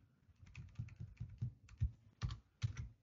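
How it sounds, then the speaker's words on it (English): Typing a command on a computer keyboard produces a quick run of close, crisp key clicks at an uneven rhythm, ending with a few firmer strokes. "let me go ahead and type the previous command"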